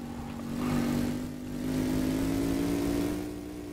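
A car engine revs hard in the video game My Garage, a mid-pitched motor whine swelling twice in two rising surges and settling back, steady and close with no talk.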